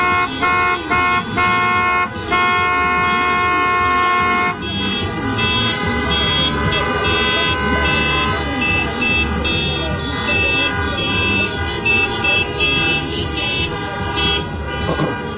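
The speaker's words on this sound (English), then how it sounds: "there's a lot of traffic out here" Busy street traffic during a Minneapolis protest demonstration, with loud car horns honking in long sustained blasts and short toots, engines rumbling beneath, and voices talking amid the din.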